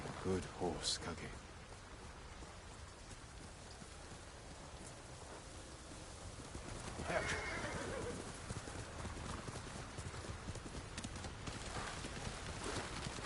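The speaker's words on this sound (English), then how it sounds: "You're a good horse, Kage." A horse gallops through rain in Ghost of Tsushima: steady clip-clop hoofbeats over constant rainfall, with a neigh near the midpoint and a fainter one at the very start.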